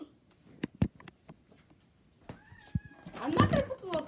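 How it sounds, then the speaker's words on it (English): Several house cats in a home, with a few meows rising near the end amid scattered knocks, handling noises and quiet talk nearby. "look at these cats. They have like four cats."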